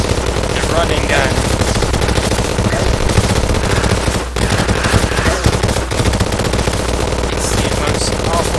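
Rapid automatic gunfire in the video game Terraria while the character runs, a dense continuous stream of shots lasting throughout with only a brief break near the middle.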